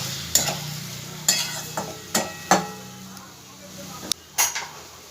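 A spoon stirs ginger-garlic paste with flat beans in a hot pan, giving soft scraping and sizzling with several sharp knocks of the utensil against the pan at irregular intervals.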